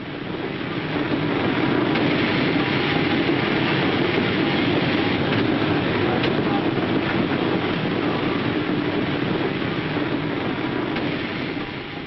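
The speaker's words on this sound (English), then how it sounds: "just in time, here's their train" A train arriving at a station in York or Whitby in the 1950s rumbles steadily and loudly close by, a continuous rolling roar of rail wheels and carriages with no voices.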